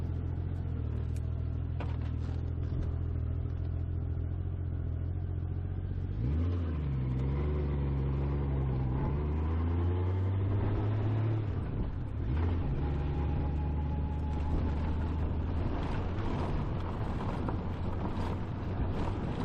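A 32-year-old Honda Goldwing motorcycle rolls down a gravel road toward a lakeside campsite, a steady low engine drone under crunching, rattling gravel noise, with pitch shifts as the engine revs up and down.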